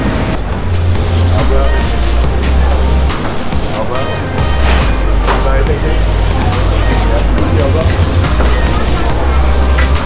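A sightseeing boat ride on the river in Paris, with a steady low engine rumble and water wash running throughout, under a background of passenger chatter.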